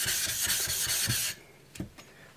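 A knife blade strokes back and forth on a new Chinese whetstone, about six quick rhythmic rasping passes close up, then the scraping stops, leaving a quiet pause and a couple of soft taps.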